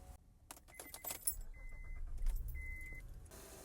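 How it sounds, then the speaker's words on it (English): Keys jangle close by as a Honda Ridgeline is started during a headlight retrofit, with metallic rattles and clicks followed by faint electronic chimes and a low engine hum. "Now I'm gonna start the car and see if any of the fuses gonna start working."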